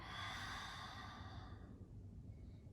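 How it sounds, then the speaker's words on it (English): A single long, breathy exhale during a yoga moon salutation, close and soft, fading out after about a second and a half into quiet room tone, with no speech. "Take an exhale here."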